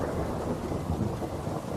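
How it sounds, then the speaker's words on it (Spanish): Loud thunder rumbles continuously with heavy rain, a dense, close, sustained roar like a horror-story storm effect, with no voices. "se oyó un trueno tan fuerte que nos hizo brincar en la cama a todos"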